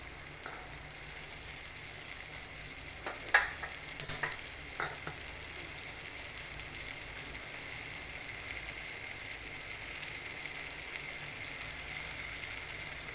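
Lentil dal cooking in a pan, a soft continuous sizzle and bubble with a few sharper clinks of stirring early on, fairly quiet and close, no talk.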